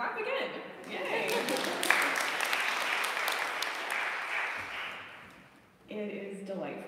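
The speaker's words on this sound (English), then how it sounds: "Yeah, clap again." An audience claps warmly at a book reading event, with brief scattered claps and laughter swelling into several seconds of full applause that fades, then voices resume.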